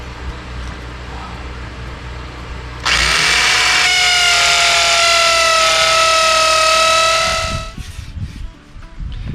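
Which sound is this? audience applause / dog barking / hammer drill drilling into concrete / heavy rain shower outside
hammer drill drilling into concrete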